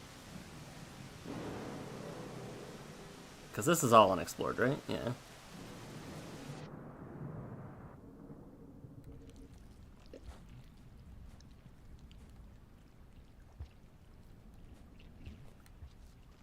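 A sudden burst of thunder in the video game Rain World rolls through a few seconds of rain, loud and rumbling before fading back to a quiet ambience, while people talk over it.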